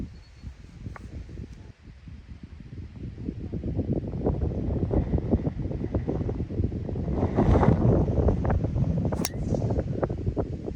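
Strong gusting wind buffets the microphone on an open golf course, a steady low roar that swells and rumbles throughout with no speech, building louder toward the end.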